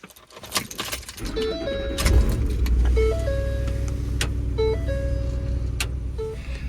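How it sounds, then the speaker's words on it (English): A car starting from the driver's seat: first a short jangle and click of keys, then the engine cranks and catches, settling into a steady, loud idle. Repeated electronic beeps sound over the running engine. "We'll go ahead and start the car."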